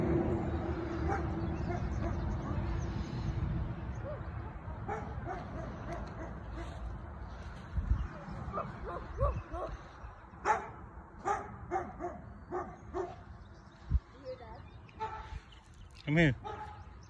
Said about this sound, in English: Oh, that a dog.